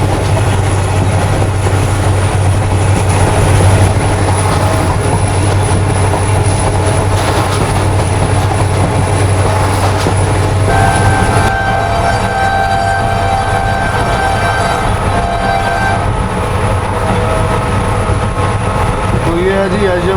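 Tezgam passenger train hauled by an SGM-30 locomotive, rumbling continuously along the track with a steady roar, wheel noise and faint squeals, with some talk in the background.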